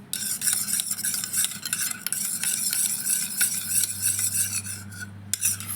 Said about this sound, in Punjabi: ਹੁਣ ਆਪਾਂ ਇਹਨਾਂ ਸਾਰੀਆਂ ਚੀਜ਼ਾਂ ਨੂੰ ਚੰਗੀ ਤਰ੍ਹਾਂ ਮਿਕਸ ਕਰ ਲਾਂਗੇ ਤਾਂ ਕਿ ਇਹ ਸਰੋਂ ਦੇ ਤੇਲ ਦੇ ਵਿੱਚ ਚੰਗੀ ਤਰ੍ਹਾਂ ਰਚ ਜਾਣ ਮਿਕਸ ਹੋ ਜਾਣ